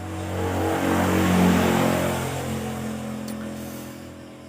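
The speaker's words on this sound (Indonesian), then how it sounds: "Ada motor lewat." A motorcycle passes by outdoors, a steady mid-pitched engine drone swelling to a peak and then fading away over a few seconds, with no talking.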